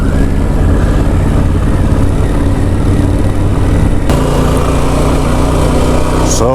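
A motorcycle rides along the roads of Barra in the Outer Hebrides, following a Harley-Davidson Sportster: loud, constant engine drone with heavy wind rush throughout and no pauses.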